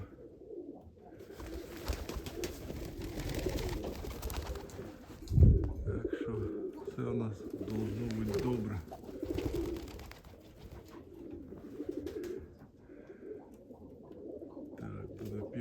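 Budapest pigeons cooing nearby in low, rolling calls that repeat several times, with faint murmured voices in the background.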